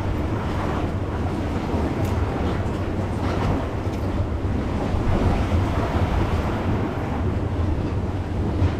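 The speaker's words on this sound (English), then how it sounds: "so I got a little bit wet there from that last wave." Ocean waves break and wash over a rocky shoreline where crabs are being hunted, making a continuous loud roar of surf mixed with gusting wind across the microphone for the whole stretch.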